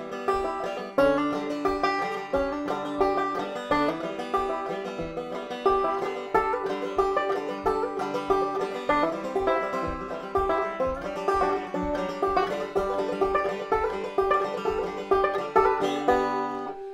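Banjo picked in a steady rolling rhythm, bright plucked notes alternating with quick strummed brushes, played solo at a moderate level.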